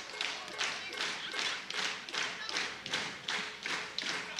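Live esports arena crowd at a League of Legends pro match claps and stamps feet in a steady rhythmic beat, loud and close, roughly two strikes per second, continuous throughout.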